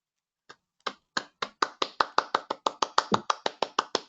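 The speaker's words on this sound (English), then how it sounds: "Two hands clapping on behalf of your audience of very grateful people." Two hands clapping alone in a quiet room, starting with a few hesitant claps and then settling into a steady, evenly spaced run of about fifteen sharp, close claps.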